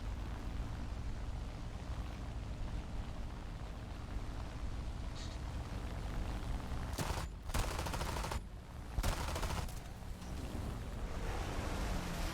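Aircraft guns of a Yak-3 fighter firing in a flight combat video game, heard as a steady, dense roar of engine and gunfire, with brief bursts cutting out near the end.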